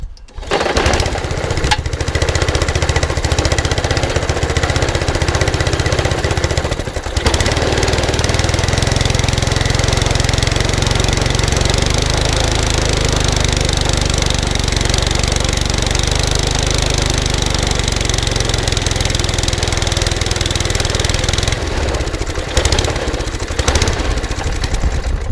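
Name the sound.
trash-picked lawn mower engine starting and running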